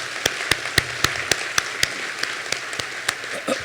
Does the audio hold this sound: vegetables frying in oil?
no